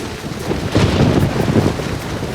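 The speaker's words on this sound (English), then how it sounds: "Here come the rains." Cartoon rain and thunder: a loud low rumble rolls under steady hissing rainfall, building to a swell near the middle, with no voices.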